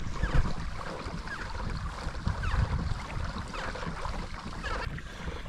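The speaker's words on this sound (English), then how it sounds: "So it doesn't take much to pedal this kayak" A Hobie pedal kayak moves through water at about four miles an hour, with a continuous wash of water around the hull and some wind noise, steady and close throughout, with no talking.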